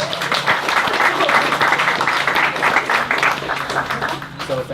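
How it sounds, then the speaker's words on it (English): An audience at a creek cleanup event claps together in sustained, dense applause lasting several seconds, close and fairly loud, with voices faintly mixed in. "give everybody a round of applause"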